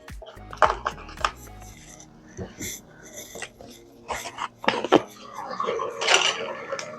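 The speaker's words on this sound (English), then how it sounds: "I like to mix in 2 tablespoons of silk dark chocolate" Dark chocolate being stirred into pancake batter in a dish, with scattered clinks and scrapes of utensil against bowl under a speaking voice.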